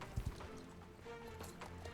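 Horse hooves clip-clop across the ground in the online horse-riding game Star Stable Online, a quick pair of close, soft thuds followed by a faint steady patter, with no talking.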